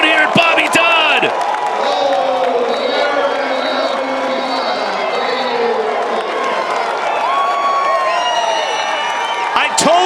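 Lacrosse crowd at Bobby Dodd stadium roaring and cheering loudly throughout, with whoops rising over the sustained din and a commentator talking over it.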